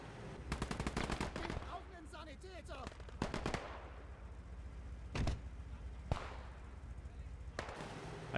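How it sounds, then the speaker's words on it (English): Muffled rifle and machine gun fire rings out at a distance across a battlefield in the World War II game Gates of Hell, several bursts and single cracks spaced irregularly over a steady rumble, with no talk. "I do also like the muffled sounds of the rifles in this game."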